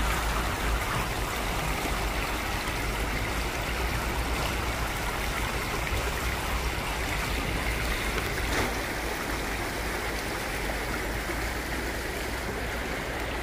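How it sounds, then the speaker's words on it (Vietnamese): A wide stream at a farm gate flows in a steady, unbroken broadband rush of water, even and continuous throughout with no voices. "ngay từ đoạn ngoài cổng vào rẫy thì trước mắt đã là một cái con suối rộng lớn và nước mênh mông như thế này"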